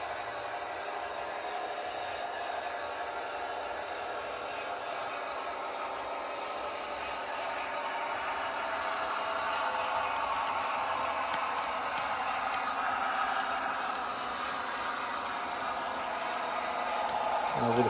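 A Rapido Fairbanks Morse H16-44 model locomotive hauling 15 covered hoppers at half throttle, a steady whirring motor drone with track hum that swells slightly midway, close and continuous.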